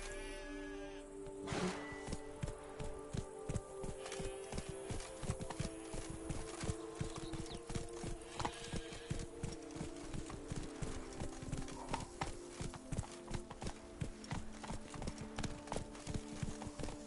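Horse galloping in The Witcher 3 video game: a fast, steady run of hoof clip-clops at close range over continuous game ambience, with a brief whinny near the start and no talking.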